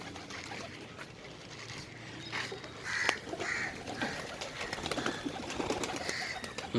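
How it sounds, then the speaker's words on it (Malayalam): A flock of pigeons being fed nearby coo and flutter, with scattered pecking and shuffling sounds at moderate volume over a soft outdoor background. "നമ്മൾ പ്രാക്കൾക്ക് കുറച്ചും കൂടി തീറ്റ കൊടുക്കട്ടെ"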